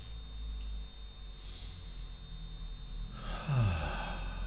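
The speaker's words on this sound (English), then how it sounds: "and breathing out, just let it go." A slow, deep exhale during a guided breathing exercise, a soft airy rush near the microphone that swells toward the end over quiet background hum.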